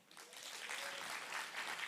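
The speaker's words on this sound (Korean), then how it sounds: "뒤로 한번 돌아서시고 박수 한번 하십시다" A church congregation at a Friday night prayer meeting breaks into applause, faint and distant but dense and continuous, swelling slightly after a soft start.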